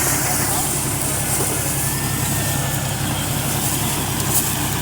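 A tractor pulling through a potato field at harvest, its engine droning loud and steady at a constant low rumble throughout.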